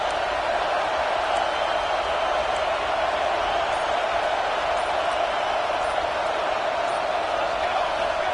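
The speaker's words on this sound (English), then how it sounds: "The Buckeye crowd alive on 3rd down." A big Ohio State Buckeyes football stadium crowd roaring on third down, a dense, sustained wall of cheering noise with a commentator speaking over it.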